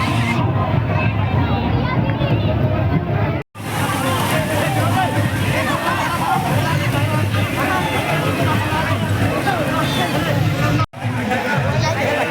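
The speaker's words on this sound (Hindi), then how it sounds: "आज 2 दिन से बहुत भीड़ है भाई।" Crowd babble at a busy water park, a dense, constant wash of many voices, shouts and splashing that carries on loudly throughout with two brief breaks.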